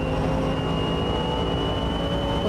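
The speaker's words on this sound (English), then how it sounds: "You can hear that engine burr." Steady, continuous V8 engine drone from a GT4 race car in a racing video game, sustained at an even, loud level with a constant tonal hum and no voices over it.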